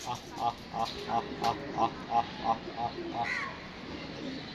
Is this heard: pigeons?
yes